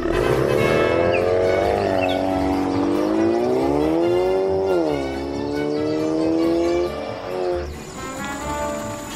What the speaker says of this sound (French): Je veux vous remercier pour nous avoir aidés à démarrer la voiture.